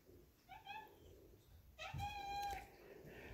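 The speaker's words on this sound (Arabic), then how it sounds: "اسفين على صوت القطط والحاجات دي" Cats meow indoors, a short call followed by a louder, longer drawn-out meow, fairly close but quiet.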